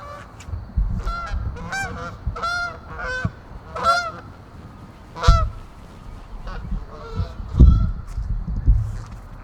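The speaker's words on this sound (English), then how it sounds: "Oh, we got some geese." Loud goose honks ring out repeatedly, several birds calling in bursts overhead, with rustling outdoor noise between calls.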